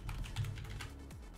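Quick bursts of clicking on a computer keyboard as a game name is typed into a search box, close and fairly soft, with no voice over it.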